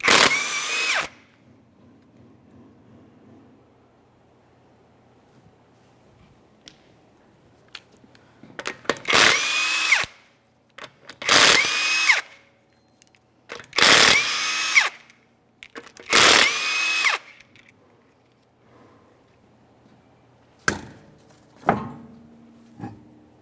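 Power tool spinning off locking lug nuts from the wheel of a 2015-2019 Subaru Outback 2.5L H4, in several loud close bursts of a few seconds each separated by quiet pauses.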